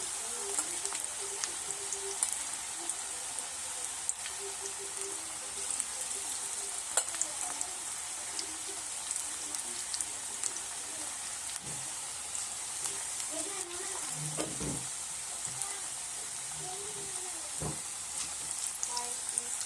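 Onion bhaji deep-frying in hot oil, a steady dense sizzle and bubbling crackle that runs unbroken throughout, with occasional soft knocks and faint movement sounds beneath it.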